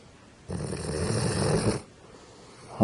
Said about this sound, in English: I think you're snoring.